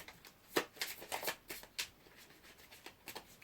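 Petit Lenormand oracle cards are shuffled by hand nearby, a quiet run of papery riffles and slaps in an uneven rhythm with no talking.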